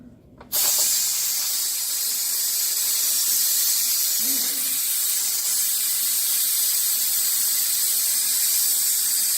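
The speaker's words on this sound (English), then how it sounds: "I like to use a little paper towel just to contain the steam some. Flip my little nozzle." Steam blasts from the release nozzle of a Power Pressure Cooker XL making vegetable beef soup, muffled by a paper towel, bursting on suddenly and holding as a loud, steady close hiss.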